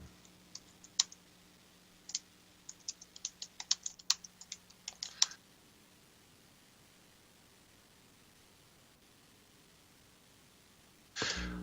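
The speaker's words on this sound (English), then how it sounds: "Okay, just typing out something." Typing on a computer keyboard: a quick, irregular patter of faint key clicks over a low hum, then quiet.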